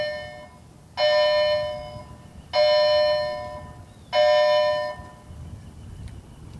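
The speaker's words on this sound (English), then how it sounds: "We are in front of a high school, and bells do ring and students do change classes" School bell at a high school: three evenly spaced electronic chime tones, each about a second long with a decaying tail, ringing clearly over quiet outdoor background.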